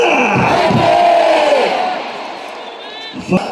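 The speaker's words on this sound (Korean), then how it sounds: "박수 한 번 더 부탁드리도록 하겠습니다" A crowd at a Korean baseball game cheers and chants loudly as one mass for about two seconds, then fades, with a brief shout near the end.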